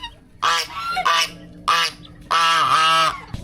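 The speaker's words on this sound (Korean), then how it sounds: "근데 여기 닭들이 있냐? 오리랑." Ducks, alongside chickens, by a walking path give loud, close, nasal honking quacks in four bursts, the last one longest, with short quiet gaps between them.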